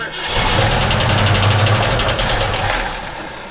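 A 1967 Ford Mustang engine cranks loud and close in a steady churning run for about three seconds without catching, then trails off.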